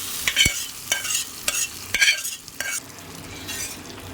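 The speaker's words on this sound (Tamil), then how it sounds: "இப்போ பாருங்கள், தாளித்து கொட்டிடலாம்." Hot tempering of dried chillies and asafoetida goes into a chutney in a series of sharp, rhythmic scraping and stirring strokes with a light sizzle beneath, close by and with no talking.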